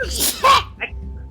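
A single loud sneeze close by, a sharp burst followed by a quick exhale, with a brief voice sound right after.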